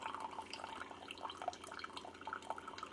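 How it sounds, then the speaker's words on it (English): Coffee from a Keurig K-Duo Plus coffee maker on its strong setting streams and splashes with a faint, continuous, bubbling trickle that stays quiet and steady throughout, with no voices. "And you do get a little bit of splashing when you do the strong setting."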